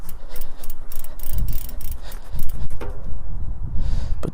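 A bicycle cassette freewheel ticks and ratchets in quick, uneven bursts as a towel is worked between the sprockets, with rubbing and cloth noise throughout at close range.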